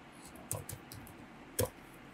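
Typing on a computer keyboard, heard as a few sparse, quiet clicks and taps close to the microphone with no talk over them.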